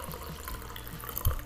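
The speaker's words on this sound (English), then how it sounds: "let's pour myself some more coffee because I am low on coffee in my mug" Coffee poured into a mug, a short, close, continuous liquid pour with a slight splash near the end, no voices.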